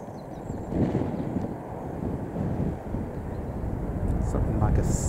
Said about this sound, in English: small plane's just taken off on the runway.